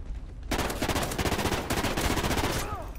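Rapid automatic gunfire in the video game Call of Duty Ghosts, a dense burst of shots starting abruptly and continuing steadily for a few seconds, loud and close.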